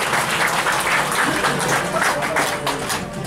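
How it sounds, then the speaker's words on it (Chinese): Wedding guests in a banquet hall applaud warmly as the bride and groom come onto the stage, a dense, continuous patter of many hands, close and fairly loud, with no clear voice over it. "来宾朋友，再用您的热情掌声来欢迎幸福的小夫妻来到舞台"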